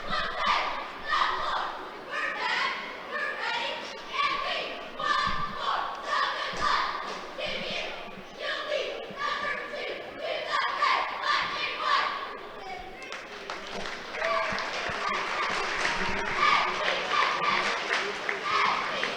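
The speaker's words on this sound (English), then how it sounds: "As you see, the Mules cheerleaders do their opening cheer tonight." High school cheerleaders perform their opening cheer at a JV basketball tournament game, rhythmic chanted shouts with claps and stomps echoing in a gym alongside crowd noise throughout.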